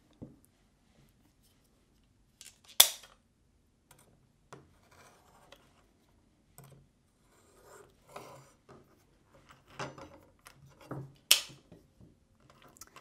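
Faux leather bracelet strap being trimmed, heard as quiet, sparse cutting and rubbing sounds with a few sharp clicks and snips in near silence, close up and without speech.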